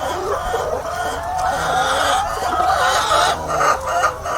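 Laying hens on a farm in Benin, fitted with anti-pecking spectacles, cluck steadily in a dense, continuous flock chorus, with a rooster-like call rising among them. No voices are heard.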